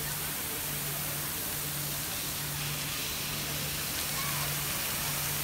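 Continuous hissing spray of fountain water at the Hito Argentino, a dense even wash of fine droplets with a faint steady low hum beneath, no clear talk.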